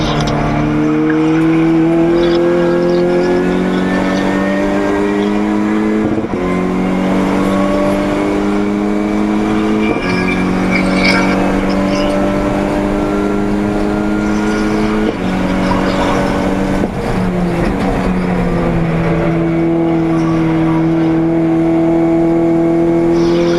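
Race cars including a blue BMW circuit racer at Brands Hatch, loud engines droning and shifting pitch through gear changes as the field passes, continuous and close.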